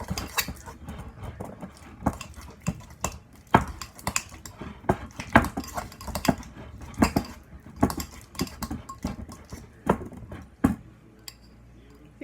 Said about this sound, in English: So you put it in your bowl and then just mash it up.